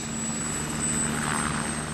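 A Metropolitan Police Eurocopter EC-145 helicopter in London gives a steady, loud rotor and turbine drone that stays even throughout, with no talk.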